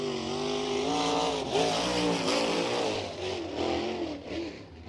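At Bloomington Speedway, a USAC National Sprint Car runs its lap with a loud, sustained engine wail that climbs and falls as the driver gets on and off the throttle, heard near and alone.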